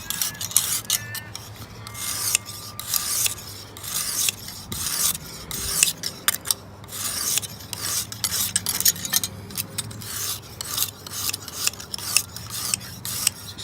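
Knife blade drawn repeatedly across the stone of a sharpening system, giving steady rasping, scraping strokes in an irregular rhythm, close and moderately loud with no talking.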